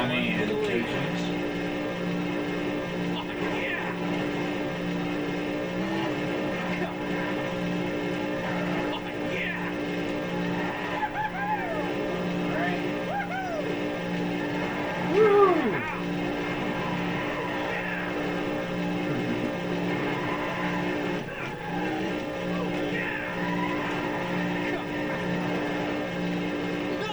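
Race cars in a Disney Pixar Cars racing game, engines droning steadily throughout with a constant hum and occasional revving swells, one brief louder burst midway, no talk over it.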